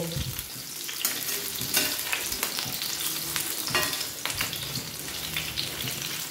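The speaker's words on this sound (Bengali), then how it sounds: "সুন্দর করে পকোড়াগুলোকে আমি ভেজে নিচ্ছি" Pointed gourd pakoras fry in hot oil with a steady, close sizzle and crackle, broken by occasional stirring scrapes and clinks; no one speaks.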